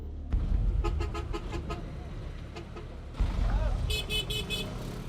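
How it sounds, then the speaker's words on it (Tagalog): Vehicles crossing a bridge in Bulacan sound repeated horn toots in short bursts, with a louder cluster of honks near the end, over steady traffic rumble and background noise. "Kapansin-pansin na ang mga dumadaang sasakyan sa tulay, bumubusina."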